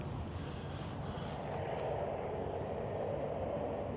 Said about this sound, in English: Airplanes are noisy.